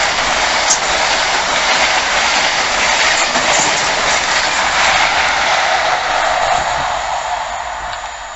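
A Virgin Trains East Coast passenger train passes close by at Invergowrie, producing a loud, sustained rumble and rushing roar that eases slightly toward the end.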